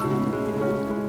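Rain falls steadily outdoors, a constant dense hiss with a low tonal hum underneath, even and unbroken throughout.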